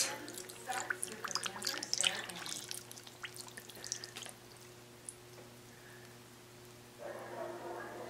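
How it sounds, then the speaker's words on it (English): Water poured over rocks in a rock tumbler barrel, an irregular splashing trickle that fades out, followed by a quieter pause and then a renewed burst of pouring, with a low steady hum beneath. "Now we're just going to add water to cover the rocks."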